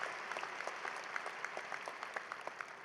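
Audience applause at a fall commencement ceremony after a musical performance, steady dense clapping heard from a distance with a few sharper individual claps standing out.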